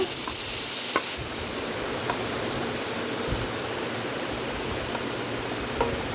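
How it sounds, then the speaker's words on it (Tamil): Paneer cubes fry in a pan for butter paneer green peas masala, giving a dense, even sizzle that runs throughout with a few faint clinks of a utensil, no talking. "பன்னீர் வந்து நல்லா கோல்டன் ப்ரௌன் கலரில் ஆகிற வரைக்கும் நல்லா ஃப்ரை பண்ணிக்கோங்க."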